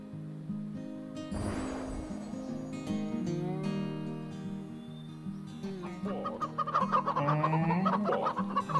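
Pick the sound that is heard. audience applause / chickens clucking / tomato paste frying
chickens clucking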